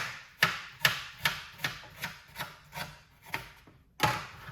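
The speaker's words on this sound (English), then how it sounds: "cut up the fresh ginger, put it straight into the blender like this" A knife chopping through fresh ginger on a board, about ten crisp, evenly spaced cuts with one final heavier chop, close and clear.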